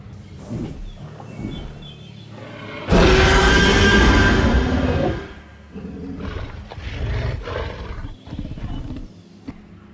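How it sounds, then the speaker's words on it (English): A huge dinosaur roar bursts out at a Jurassic Park paddock, loud and sustained for about two seconds over rumbling outdoor background noise, then fades into lower growls and ambient murmur. "Hopefully she'll give you all a welcoming roar."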